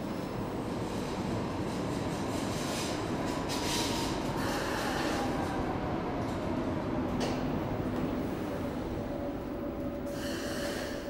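A Dortmund Stadtbahn light rail train rumbles steadily at the main underground station, with faint wheel squeals and a long brake whine over the constant roar.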